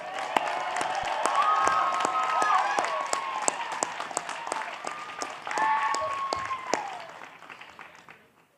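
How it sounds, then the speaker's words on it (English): Loud, sustained applause from a graduation ceremony audience at a university College of Business event in Reno, Nevada, dense clapping with some cheering and whistles, gradually fading at the end. "one last time with a loud round of applause"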